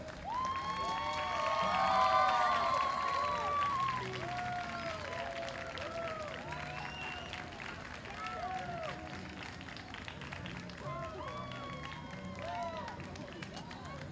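Audience at a dance contest clapping and cheering, a steady wash of applause and crowd noise that swells early and then carries on at a lower level, with voices and whistles mixed in.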